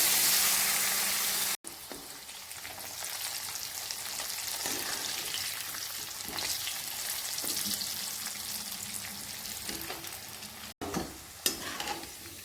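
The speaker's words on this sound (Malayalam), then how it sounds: "ചക്കക്കുരു ഇതിലിടുക." Jackfruit seeds fry in hot oil in a wok, a loud, steady, close sizzle with occasional stirring scrapes and two brief breaks, and no talking.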